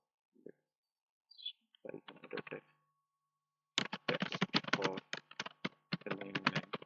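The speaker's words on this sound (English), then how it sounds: "Let's type another text for" Typing on a computer keyboard for a text editor, with short bursts of close, quiet key clicks and a longer rapid run of taps after a pause.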